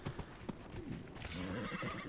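A horse mount in the video game Dragon Age: Inquisition gallops with quick rhythmic hoof clip-clops and a brief whinny, fairly quiet and close, heard alone without speech.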